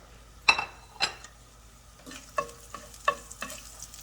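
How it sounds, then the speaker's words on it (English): Onion and pepper stir-frying in a preheated skillet with vegetable oil for General Tso chicken: a soft sizzle runs throughout, broken by several sharp utensil scrapes and clinks against the pan, close and fairly quiet. "we're gonna add in the onion and the pepper"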